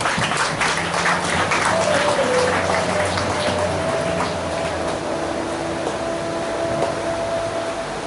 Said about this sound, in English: Give all of them a round of applause.